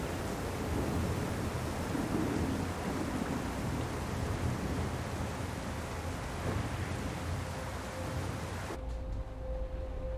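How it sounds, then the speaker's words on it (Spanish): A heavy thunderstorm rages in the video game Syberia The World Before: constant loud rain with low rumbling that washes over everything, then cuts down abruptly near the end, leaving a quieter hum. "Sí que tiene pinta de ser una mega tormenta, ¿eh?"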